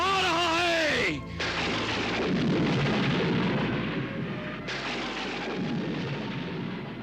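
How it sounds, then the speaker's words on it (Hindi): A sharp, loud thunder crack with a long rumbling roll in a dramatised Ramayana-era battle scene, breaking in suddenly over a fading music or voice passage and then rumbling on before a second swell. "अचानक ये बिजली कैसे कड़की?"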